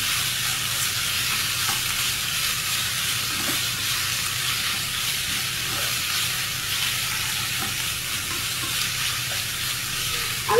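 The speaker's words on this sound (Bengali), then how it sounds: "এখন আমি ম্যারিনেট করা চিকেনগুলো এর মধ্যে ছেড়ে দিচ্ছি।" Marinated chicken sizzles and fries steadily in hot oil, with a spoon or spatula stirring and scraping through it at intervals; the frying hiss stays loud and continuous with no one talking.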